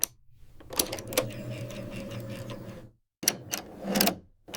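A sewing machine stitches in short runs, its hook and needle timing giving a mechanical whirring hum punctuated by sharp clicks, pausing briefly before starting up again.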